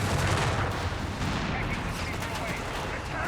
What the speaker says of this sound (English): Use of this barrage.